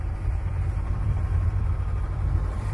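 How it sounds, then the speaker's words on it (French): Sailboat engine motoring on a cruise off Sardinia, a steady low rumbling drone with constant vibration, close and even in level from start to finish with no voices. "on monte au moteur et je pense qu'on va se taper encore une journée de moteur"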